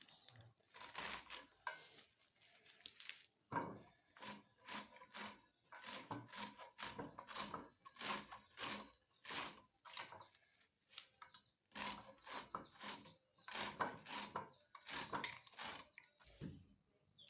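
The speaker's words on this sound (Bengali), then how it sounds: "আমার বাতুয়া শাক কাটা শেষ।" Bathua greens (lamb's quarters) cut into thin strips with a knife, a run of quick, crisp, faint chopping strokes in bursts with short pauses between them.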